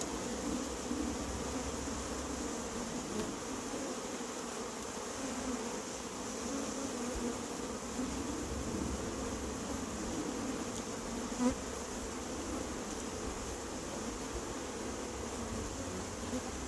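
A honeybee colony streams out of its hive in panic after a few drops of lavender, making a dense, steady buzz of many bees close by that holds without pause throughout.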